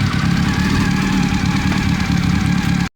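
A carbureted 2000 Honda CBR600 F4 motorcycle engine idles loud and close with a steady, even rumble before it cuts off abruptly at the end.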